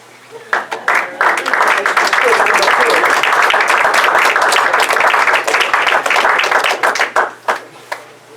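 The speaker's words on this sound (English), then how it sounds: "please stand up so we can give you a round of applause" A loud, sustained round of applause from a school board meeting audience for parents supporting their students, building quickly into dense clapping for several seconds before tapering off to a few last claps.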